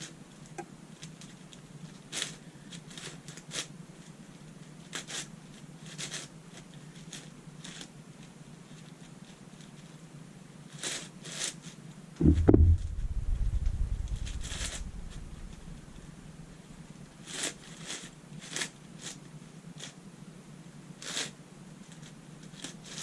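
Layers of a 6x8x10 Shapeshifter twisty puzzle being turned, with scattered soft plastic clicks and clacks, and one louder rumbling shuffle partway through, all close and quiet.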